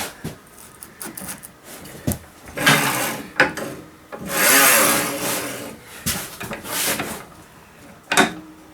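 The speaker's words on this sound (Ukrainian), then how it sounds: "Тут навпіл просто поріжу просто навпіл." A manual tile cutter scores a tile down the middle: rough scraping strokes and short knocks, with a few louder, longer rasping passes in the middle. Nearby and fairly loud, with no talking.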